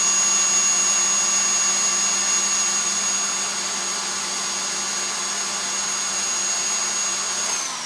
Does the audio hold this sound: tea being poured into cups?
no